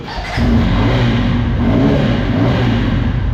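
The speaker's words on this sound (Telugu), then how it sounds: "అద్భుతమైన బైక్ సౌండ్ అయితే మీకు వినిపిస్తా సౌండ్ ఇంజిన్ ఇది" A loud, close motorcycle engine kicks up and holds a steady, rumbling rev throughout.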